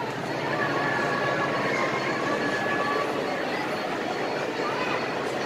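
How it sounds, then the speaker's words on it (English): A Metra commuter train with older cab cars and Pullman coaches rolls in beside a science and industry museum, giving a loud, sustained rumble of wheels on rail that stays steady throughout. "Oh look, we got the metro coming in."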